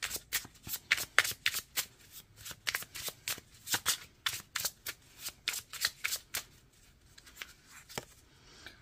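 Tarot cards shuffled by hand close up, a quick run of crisp riffling slaps and shuffles in a steady irregular rhythm, with no voices over it.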